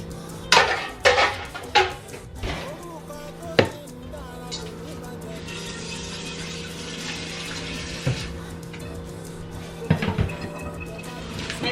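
A big cooking pot is pulled out of the oven in a home kitchen: a few scattered metallic clanks and knocks, some in quick bursts, over a low steady background hum.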